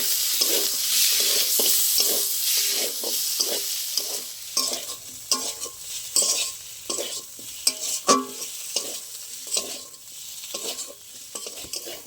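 Bitter gourd curry with spices sizzles in a pan while a spatula stirs and scrapes it in quick, uneven strokes, the frying hiss rising and falling with each push.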